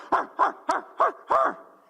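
A man imitates a dog with five loud, close, evenly spaced barks at a city council meeting, each a short voiced yelp, the last one slightly longer.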